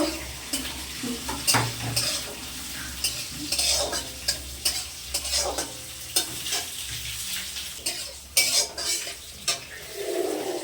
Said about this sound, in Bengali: কুচানো আদা কুচানো পেঁয়াজ কুচানো লঙ্কা সবগুলো দিয়ে দেব দিয়ে একটু ভেজে নেব